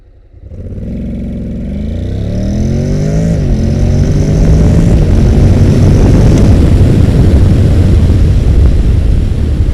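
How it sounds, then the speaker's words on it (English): A Honda NC750X DCT motorcycle accelerates hard to 100 km/h, its engine note rising loudly through several automatic gear changes into a steady, roaring drone with heavy wind rush. "Let's see how fast the bike is until 100 kilometers."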